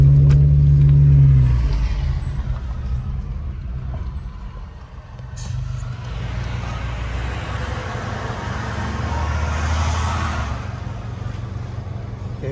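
Car driving on a road near Snow Summit in Big Bear after snow, a loud steady engine and tire rumble that eases as it slows for a U-turn, then builds again as it pulls away.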